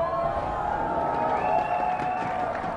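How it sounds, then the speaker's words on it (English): A crowd at a League of Legends esports match roars in a sustained, even wash of cheering and scattered clapping, with no gaps. "Let's hear some crowd noise for them."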